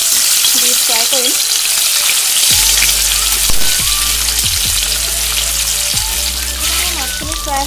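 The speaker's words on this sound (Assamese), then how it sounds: "এতিয়া মই ইয়াতে এপিচ এপিচকৈ মাছ দি ফ্ৰাই কৰিম।" Fish pieces sizzle loudly in hot oil in a wok, a dense, close frying hiss that runs throughout, with occasional pops and clatters as pieces are added and moved.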